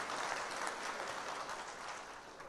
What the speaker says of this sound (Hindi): ताली बजाना चाहिए इसमें।